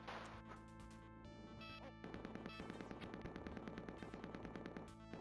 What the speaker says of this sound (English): I'm just pointing in the general direction of the enemy and firing, and it works.